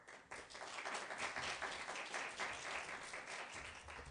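Applause from an audience at a campaign team meeting, a dense, even wash of clapping that stays level and moderately distant throughout.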